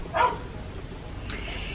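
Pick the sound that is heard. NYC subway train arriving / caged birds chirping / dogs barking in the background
dogs barking in the background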